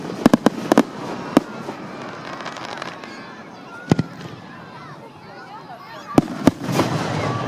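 Fireworks going off during an evening outing by car, sharp scattered bangs and pops in small clusters with crackling between them, heard alongside people talking.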